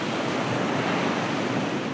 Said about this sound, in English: see the ocean hitting the rocks, see the foam pulling back